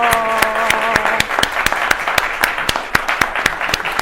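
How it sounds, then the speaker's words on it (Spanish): Audience applause at an academic seminar on research integrity and editorial processes, steady close clapping from many hands lasting throughout, with a brief spoken voice at the start. "Así que yo le daría un aplauso a Rodrigo,"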